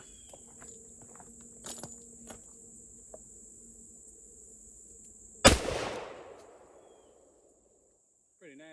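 A single loud shot from a Beretta 1301 shotgun firing Federal Flite Control buckshot outdoors at about 30 feet, sharp blast with a long decaying tail, after quiet rustling, footsteps and insect chirping.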